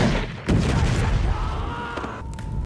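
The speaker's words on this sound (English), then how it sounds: "This causes an explosion so big that the sheriff is thrown away" A huge explosion in a film as a makeshift gun's shot sets off a balloon, a loud sudden boom followed by a dense rumbling blast that hangs on for over two seconds.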